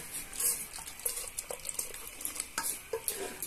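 Warm milk being stirred in a pot, a soft scraping and light clinking of a spoon against the metal, repeated in an irregular rhythm at low volume with no talking.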